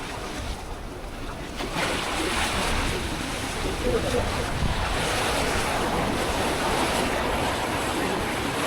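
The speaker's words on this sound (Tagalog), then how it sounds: "Grabing hangin guys." Strong wind by the sea at a river mouth, a loud, steady roar buffeting the microphone for the whole stretch with surf beneath it and no letup.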